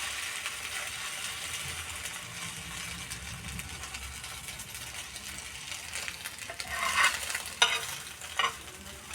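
A flipped egg fries gently over a low gas flame in a pan, giving a soft continuous sizzle with a few sharper scraping clicks from a utensil toward the end; no one speaks.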